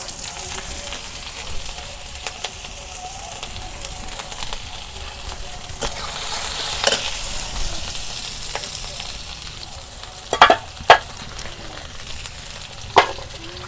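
Chopped onion and green chili fry in hot oil with a steady close sizzle, stirred now and then, with a few sharp utensil clinks near the end.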